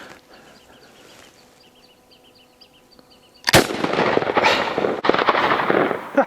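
A single loud, close blast from a Winchester 9410 shotgun bursts out midway, followed by a long rolling echo across quiet outdoors, with faint birdsong before the shot.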